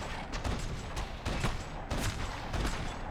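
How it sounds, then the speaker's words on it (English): Repeated gunfire in Max Payne 3, shots bursting in quick clusters about every half second, loud and close with a dense, boomy crack and no talk over it. "You can shoot him in the head quite a few times in this mode."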